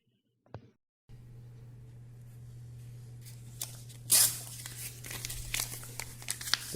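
A digital weighing scale's thermal receipt printer running, a steady low hum with a brief click before it, then scratchy paper noises and crisp tearing sounds as the receipt comes out.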